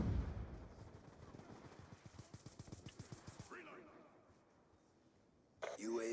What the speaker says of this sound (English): My teammate just came out shooting at me.